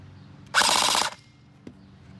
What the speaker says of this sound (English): let's do a couple trigger pulls on semi-auto and then full auto